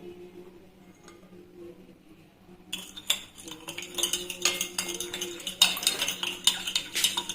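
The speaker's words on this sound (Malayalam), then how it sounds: "നന്നായിട്ട് ഇളക്കി കൊടുക്കാം." Cake batter is stirred with a spoon in a bowl, starting quiet and then turning into fast, close rhythmic scraping and clinking against the sides, with no talking.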